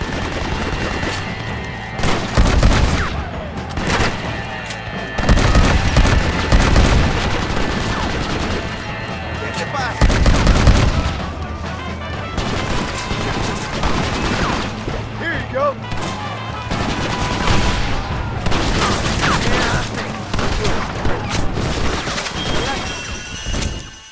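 Sustained automatic gunfire and bursts of shooting in the Western video game Red Dead Redemption, loud and continuous, with heavy impacts and crashes, and voices shouting over the fighting.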